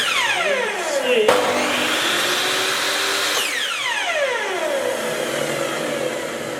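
A fixed drop saw runs without cutting, its motor whining loudly and steadily. The pitch sweeps down and back up as it spins, close and continuous.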